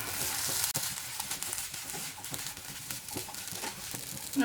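Vegetable oats upma being stirred in a pan, with a steady scraping and light sizzling texture that continues throughout, close and moderately loud, with no talking.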